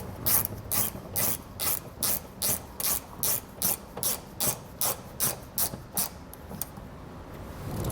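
A hand ratchet reinstalls the screws on an etrailer Class 3 trailer hitch receiver, giving a steady run of about sixteen crisp, evenly spaced clicking strokes close up before falling quiet.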